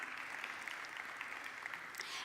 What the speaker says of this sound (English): If we can give Tara a big round of applause as she makes her way up